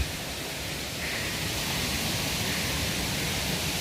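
Water flows steadily through jungle streams, a constant rushing hiss that carries on without a break at a moderate level, with no voices.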